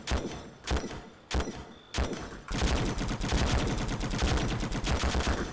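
Enemy gunfire in the shooter game Conflict: Global Terror comes as three or four sharp, separate loud shots, then breaks into continuous rapid automatic fire close by.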